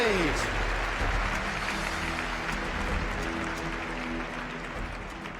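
Applause from a large indoor arena crowd at the London Olympia dressage World Cup Grand Prix, loud and sustained at first and then slowly fading, while an announcer's amplified voice sounds over it.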